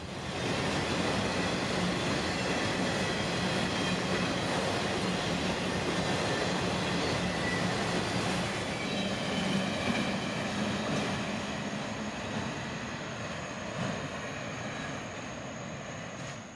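An 8,000-foot freight train of loaded auto racks, pulled by a single CSX ET44AH locomotive in Folkston, Georgia, rolls past as a broad, continuous rumble and roar of wheels and cars that stays steady and fades slightly at the end.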